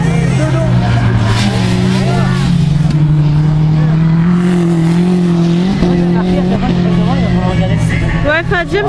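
A race car driven by Daniel Meignon passes with a sustained engine drone that rises and falls in pitch, loud and steady throughout, with crowd voices and commentary mixed in at Saint-Malo-de-Phily.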